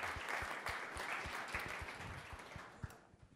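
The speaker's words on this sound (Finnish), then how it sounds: "Annetaan sille aplodit." Audience applause at a talk event in Oulu, a dense roomful of clapping with some louder individual claps standing out near the front, continuous and fading slightly toward the end.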